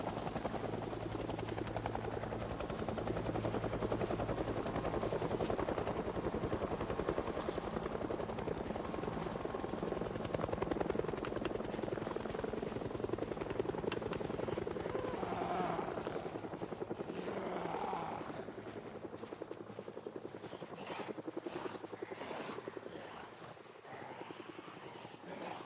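A helicopter in the survival video game Project Zomboid passes overhead, its rotor chop steady and fairly loud before gradually fading as it flies off to the south, with no talk over it.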